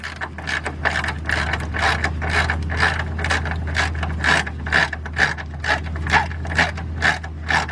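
A ratchet socket wrench with a 15 millimeter socket clicks steadily in rapid repeated bursts while turning a bolt during a starter replacement on a Chrysler Sebring, Dodge Avenger, Caliber or Jeep Compass/Patriot, close and loud over a low hum.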